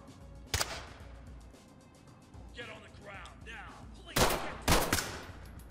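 Gunfire in the tactical shooter Ready Or Not, with a sharp shot near the start and two loud bursts of shots later on, while players talk in between.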